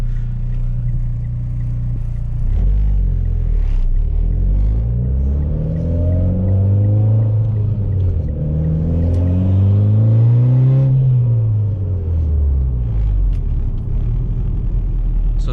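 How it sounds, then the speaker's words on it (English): A Mitsubishi Evo X fitted with aftermarket Torque Solution motor mounts gives a loud, continuous low rumble and vibration from inside the car, with the engine note slowly rising and falling as revs change and no speech. "It's only when you come to a stop when the vibrations really get loud."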